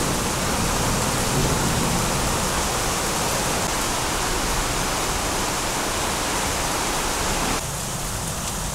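Heavy torrential rain pours down in a dense, steady roar that stays loud and unbroken throughout, easing only slightly near the end.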